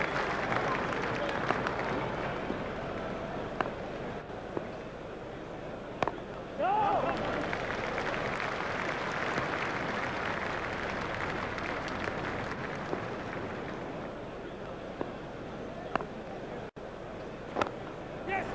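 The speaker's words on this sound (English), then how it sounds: "The crowd enjoyed that one." Crowd applause and cheering from the Cricket 2002 PC video game fills the whole stretch as a steady, dense wash at moderate loudness, with a commentator talking over it.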